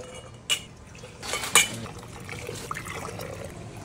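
Strawberry lemonade concentrate poured into pint glass canning jars, a soft liquid trickle with a couple of sharp glass clinks near the start and middle, fairly close and quiet.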